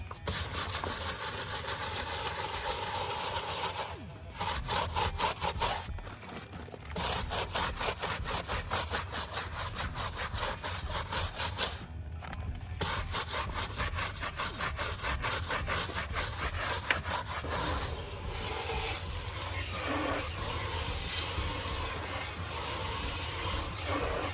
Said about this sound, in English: Now we're going to use the hard bristle brush to scrub it all off.